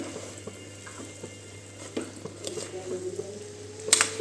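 Vegetables being gently stirred together for a traditional Makar Sankranti mixed bhaji, with soft scraping and squishing over a steady low hum, small clinks of a spoon against the pot, and a brief sharper clatter near the end.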